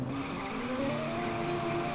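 An F1 car, the Mugello Farina Duo in the video game Just Cause 3, roars loudly and continuously with a steady engine whine while its tires skid and squeal, with no talking.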